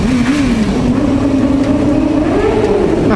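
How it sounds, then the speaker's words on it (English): Car engine rev bombing inside a road tunnel, a loud sustained engine roar with rising and falling pitch that fills the whole clip and echoes off the walls; voices are faintly mixed in. "rev bombing in the tunnel."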